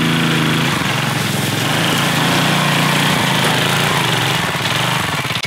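An offroad go kart engine runs continuously and close by with a loud, buzzing, slightly uneven idle and a rapid pulsing rhythm.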